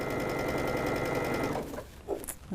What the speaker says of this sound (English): So we're going to stitch on both sides of both diagonal lines.